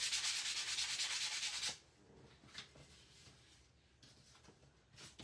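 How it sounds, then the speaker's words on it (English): Sanding a wooden DIY Christmas sign by hand, a loud, steady abrasive rubbing for the first second and a half, then stopping, with only faint scattered scrapes and knocks after. "I just sanded it real quick."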